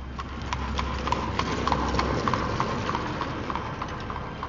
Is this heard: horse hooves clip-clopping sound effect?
yes